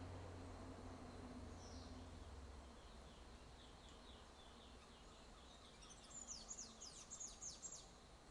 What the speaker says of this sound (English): the sounds of the wind and the birds in the background around me